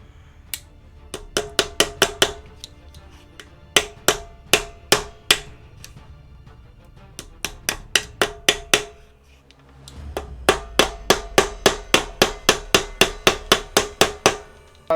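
Repeated sharp metal strikes from the head of a multi-tool plier used as a hammer, landing in quick bursts of blows with short pauses between runs, loud and close with no talk.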